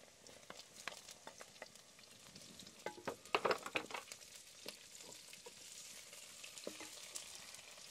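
Capsicum, carrot and beans stir-fried for paneer fried rice, a steady close sizzle with scattered crackles and spatula scrapes, busiest in the middle, with no talk.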